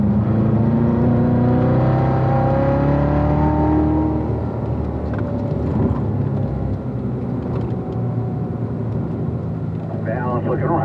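A car at full throttle on the Spring Mountain race track gives a loud, sustained engine drone with rising and falling pitch as it accelerates, heard close from inside, while a voice talks over it.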